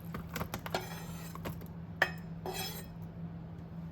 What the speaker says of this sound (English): I'm going to transfer the shrimp in a bowl.